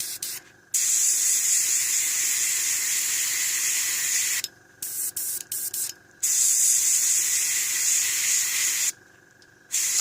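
Airbrush spraying paint onto a model, a close, steady hiss in three long bursts broken by brief pauses and a few quick stops.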